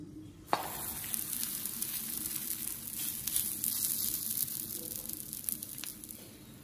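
A paratha fries in ghee on a hot pan, a soft continuous sizzle after a brief clack at the start, faint and steady throughout.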